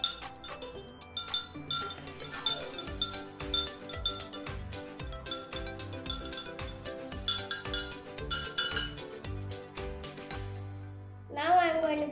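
A spoon clinks and scrapes rhythmically against a glass while stirring salt into water, a run of bright repeated taps close to the listener, ending with a brief tonal sound.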